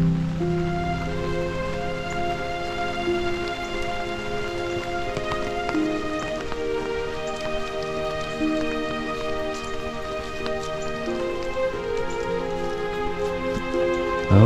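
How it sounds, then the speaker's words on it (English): Steady rain falling outdoors during a walk, a continuous broadband patter on surfaces that stays even and fairly loud throughout, with tonal background hum running underneath and no talking. "It's really starting to rain now."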